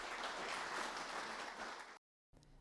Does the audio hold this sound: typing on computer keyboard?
no